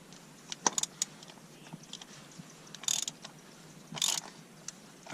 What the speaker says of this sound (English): using a 36mm socket. We're going to spin off the top of the oil filter housing.